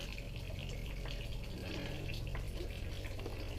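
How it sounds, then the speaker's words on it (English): Water trickles and drips steadily from a cave ceiling at Dripping Springs in the Grand Canyon, soft splashes over a low constant background. "Water drips off the ceiling up here."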